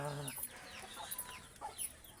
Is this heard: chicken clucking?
yes